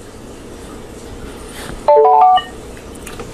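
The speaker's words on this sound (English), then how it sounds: "That noise right there let us know that it is Bluetooth." A short electronic Bluetooth pairing chime from an Alpatronix AX400 portable mini wireless speaker, a few quick rising tones ringing out clearly over a steady background hiss, lasting about half a second.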